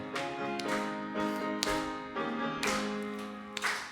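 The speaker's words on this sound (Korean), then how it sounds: "우리 박수 치면서 함께 찬양하겠습니다." Congregation at a Korean church Sunday service clapping along to a hymn, steady rhythmic claps over sung melody and organ-like accompaniment, moderately distant.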